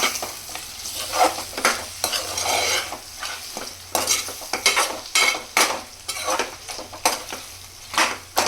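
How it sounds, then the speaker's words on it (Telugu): Chicken buttermilk curry is stirred in a pot after coriander goes in, with repeated rhythmic spoon scrapes and clinks against the metal over a gentle bubbling sizzle, close and clear with no talking. "కొత్తిమీర చల్లేసేసుకుని ఒకసారి కలుపుకొని"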